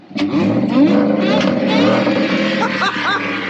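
A loud, steady engine drone from a 2021 Ford F-150 with a Whipple supercharger carries a high supercharger whine on top, with a brief rise in pitch near the end and a voice mixed in.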